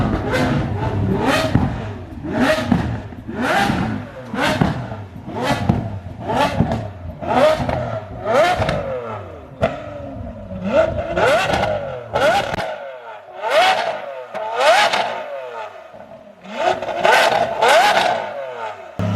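A Lamborghini SVJ supercar at a large car meet in Los Angeles. Its engine is revved over and over in sharp, loud bursts, each one rising and then dropping off. The revs come close together at first, then at wider intervals, and the car is heard alone.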